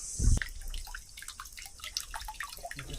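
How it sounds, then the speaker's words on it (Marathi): Water trickles steadily into the Gomukhi stone tank at a hilltop fort, a soft continuous flow with scattered drips and splashes, close by and fairly quiet, with a brief louder thump at the start. "पूर्ण उन्हाळ्यातही इथं कंटिन्यू पाणी चालू असतं या कुंडामध्ये"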